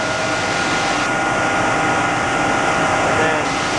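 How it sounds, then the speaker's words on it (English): A plain trash pump runs continuously, drawing through its suction and discharging into a BRANDT hydrosieve, making a steady, close, broadband mechanical roar with a faint higher whine layered over it. "So this is just a plain old trash pump."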